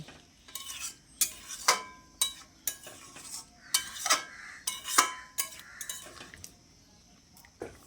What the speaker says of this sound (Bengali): জলটা দিয়ে আলুর সঙ্গে আবারও ভালো করে নেড়ে চেড়ে মিশিয়ে নিচ্ছি